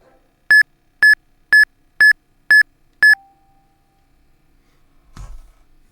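Six identical electronic beeps sound at an even pace about half a second apart from the Wii disc channel, each clean and bright, followed by a brief low tone and a soft thump.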